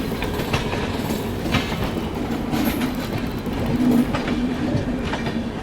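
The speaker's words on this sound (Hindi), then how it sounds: "इसके बगल से ये डिपार्चर ले रही है हावड़ा मुंबई मेल।" The Howrah Mumbai Mail pulls out of a station, its wheels clacking over rail joints in a steady, continuous rhythm with a rumbling undertone and occasional faint squeals.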